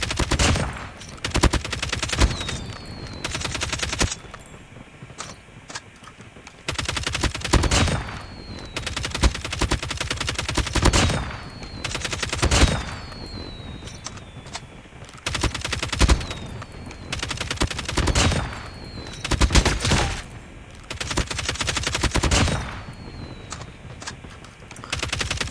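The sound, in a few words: LK24 gun firing in Call of Duty video game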